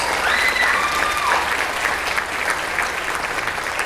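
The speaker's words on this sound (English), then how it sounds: "Give them a round of applause." Steady applause from a crowd at a high school concert band spring concert fills the space, dense and continuous clapping that holds at an even level throughout.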